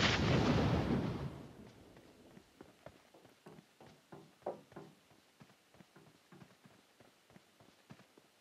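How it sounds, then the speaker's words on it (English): A single loud grenade blast in PUBG Mobile bursts and decays over about a second. A string of faint, sharp clicks and pops follows, like distant shots or footsteps. "Someone's throwing grenades at me."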